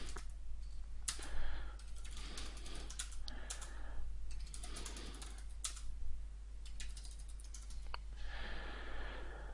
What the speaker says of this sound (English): you have to go and type it in over and over again